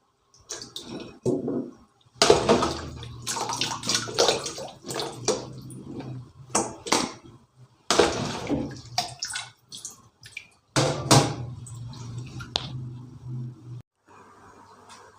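Water from boiled ginkgo nuts is drained off into a container, heard as bursts of splashing, pouring water in several separate runs with brief pauses between them, close by.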